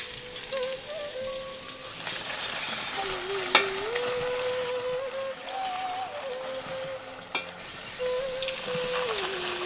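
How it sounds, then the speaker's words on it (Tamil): Puris for pani puri fry in hot oil with a steady, even sizzle throughout, joined by a couple of brief clicks and a faint tonal hum in the background; no one speaks. "இப்ப தேய்ச்சி வச்சிருந்த மாவை பூரியா சுட்டு எடுத்துக்கலாம்."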